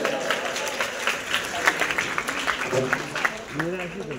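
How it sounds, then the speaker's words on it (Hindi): Applause from an audience at a school annual function, greeting a Lambadi folk dance team. The clapping carries on steadily through the whole stretch, with voices and a few tonal sounds mixed in over it. "जोरदार तालियां बजाएं।"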